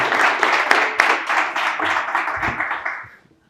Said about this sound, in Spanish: Pues un fuerte aplauso para Alfonso, por favor.